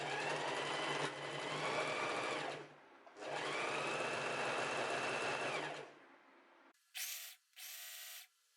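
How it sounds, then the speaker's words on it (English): A sewing machine runs a straight stitch on fabric, two long steady whirring bursts up close, followed by a couple of short mechanical whirs. "I have my sewing machine set to a straight stitch"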